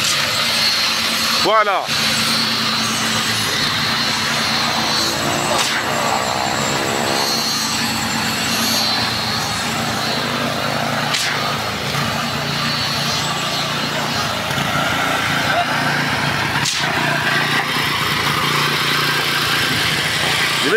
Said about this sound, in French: on vient de démarrer notre aiguille vibrante pour procéder par les vibrations du béton